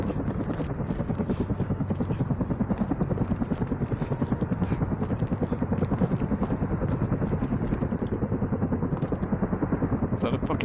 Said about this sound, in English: Is that a fucking chopper out there?